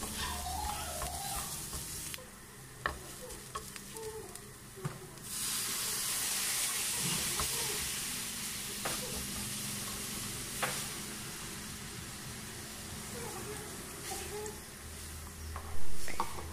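Milk poured into a flour roux cooking in a pan gives a steady sizzling, steaming hiss with stirring scrapes, swelling louder midway and carrying on at moderate level with occasional clinks.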